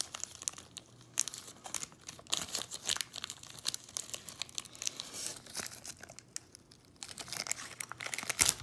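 A plastic bag of sand crinkles and rustles as it is handled and worked open, with dense, irregular crackling bursts continuing throughout, close and fairly loud.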